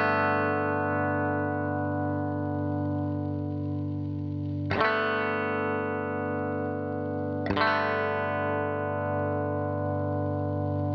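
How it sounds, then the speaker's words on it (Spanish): Electric guitar through a NUX MG30 multi-effects pedal with its compressor engaged, a sustained distorted chord ringing loud and steady after playing stops, broken by two sharp pick attacks that restart the held tone. "Escuchan cómo lo dejo de tocar y empieza a actuar el compresor."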